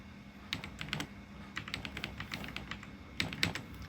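Rapid keystrokes on a computer keyboard as Cisco router commands are entered, clicking in uneven bursts with short pauses, close and alone.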